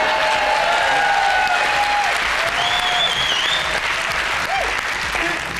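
Studio audience at a 2003 televised Song for Europe contest breaks into sustained applause, dense and steady throughout, with whistles and cheers rising above the clapping.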